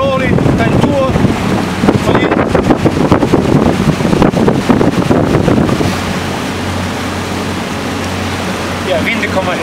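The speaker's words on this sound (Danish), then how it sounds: "vinden kommer her, ja, det er rigtigt." Wind gusts buffet the microphone beside a boat on Skanderborg Sø, a Danish lake, with lapping water beneath; strong broadband rumble for the first six seconds, then calmer steady wind, and people speaking faintly.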